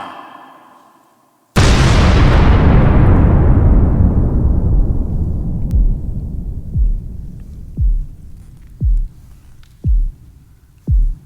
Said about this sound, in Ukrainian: Дивись обережно, там же стріляють.